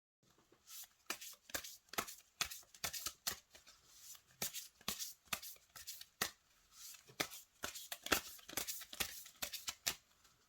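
An oracle card deck being shuffled by hand, a quick run of crisp riffling and sliding card snaps in steady bursts, close and fairly quiet with no talking.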